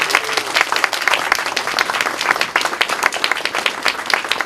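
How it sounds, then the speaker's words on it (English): A Veterans Day crowd in Maynard claps and applauds continuously, a dense, steady burst of many hands throughout. "how about a round of applause for all you guys?"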